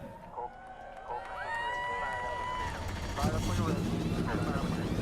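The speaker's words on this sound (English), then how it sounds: "Drivers, start your engines!" NASCAR Xfinity Series race car engines fire up at Kansas, a thick roar building across the field after an amplified voice and crowd noise, swelling louder and rougher toward the end.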